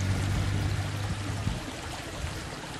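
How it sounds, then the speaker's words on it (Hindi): Water pours continuously at Gulpur Waterfall in Kotli, Azad Kashmir, a dense steady rush that fills the whole stretch, with a low rumble in the first half and no speech. "पानी"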